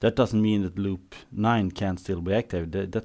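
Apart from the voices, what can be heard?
No everyday noise stands out behind the speech.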